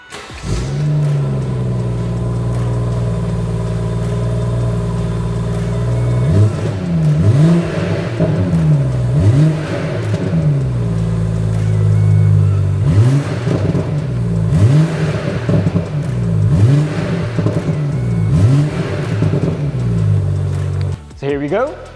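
A BMW M140i fitted with a 200-cell downpipe idles with a deep exhaust drone, then revs repeatedly in a rhythmic series of rising and falling engine sweeps, loud and close.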